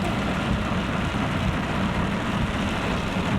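A dense, constant hiss and roar of heavy rain during a storm, close and loud, with no pauses or other distinct sounds.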